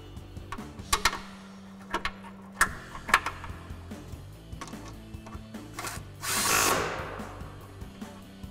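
A power tool drives a 10mm bolt into a brake line bracket on a 2005-2014 Mustang rear axle, several short whirring bursts and clicks, then a longer louder zip near the end.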